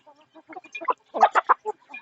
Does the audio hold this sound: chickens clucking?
yes